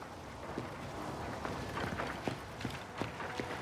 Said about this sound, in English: I love how you can hear the footsteps scampering.